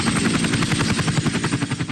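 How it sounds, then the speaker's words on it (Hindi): A helicopter's rotor beats with a fast, steady chop that fills the whole two seconds, loud and close, with no voices over it. "हेलीकॉप्टर से बॉर्डर पर ले गए मुझे।"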